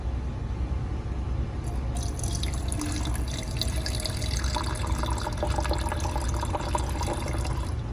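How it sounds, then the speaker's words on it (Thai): Water poured from a container into a small device until its sensor is submerged, a steady continuous splashing and trickling stream with faint dripping, close and fairly loud throughout with no talking. "แล้วก็เทน้ำให้ท่วมตัวนี้ เทน้ำให้ท่วมตัวนี้ก็คือเซ็นเซอร์"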